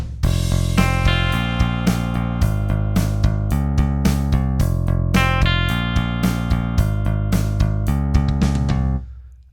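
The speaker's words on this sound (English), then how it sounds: "So the first part is going to sound like this." Distorted electric guitar power chords on a six-string play the opening part of the verse, loud and driving with steady rhythmic strums and choppy muted accents, ringing out alone before stopping abruptly at the end.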